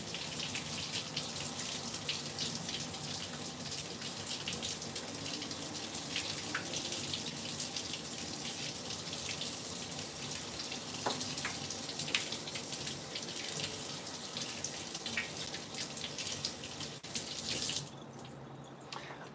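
Kitchen tap running while peppers are rinsed, a steady soft hiss of flowing water with faint splashes and drips throughout, stopping just before the end.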